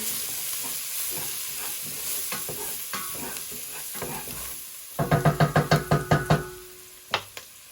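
Garlic hitting hot fat in a soup pot, a steady sizzle under a run of spoon scrapes, then a quick series of loud rhythmic knocks against the pot and two final taps.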